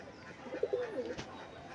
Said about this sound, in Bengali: আজ প্রথম দিন পায়রা ছেড়েছি, তো দুটো পায়রা বেরিয়ে গেছে